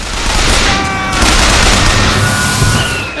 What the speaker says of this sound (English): And now I have a machine gun.